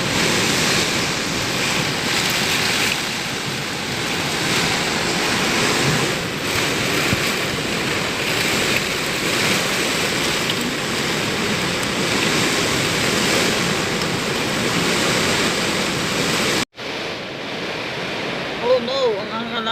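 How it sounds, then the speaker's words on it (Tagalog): Very strong wind from Typhoon Paeng roars continuously in loud, gusty waves for about seventeen seconds, then cuts off abruptly, leaving quieter background noise. "sobrang lakas na ng hangin kaya sinarhan ko na ang bintana"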